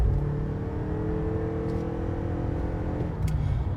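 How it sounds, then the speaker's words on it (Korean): A Toyota Crown hybrid's engine, still cold, hums steadily from inside the cabin in sport mode, rising gently as the driver presses the accelerator. "드라이브 모드를 지금 스포츠로 좀 전환을 해서 한번 살짝 밟아보도록 할게요"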